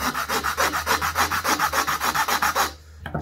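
A hand file shapes and smooths a drilled hole in a wooden bolster for a remote control plane build. Close, steady back-and-forth rasping strokes in an even rhythm stop abruptly just before the end.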